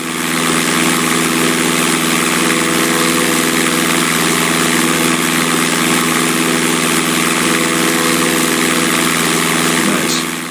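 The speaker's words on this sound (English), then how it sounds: "Adjust throttle so the engine runs at 1700 RPM." A light aircraft engine in the FlyWings 2018 flight simulator drones steadily at cruise, throttled to about 1700 RPM, a loud, even hum with a constant propeller buzz and no pauses.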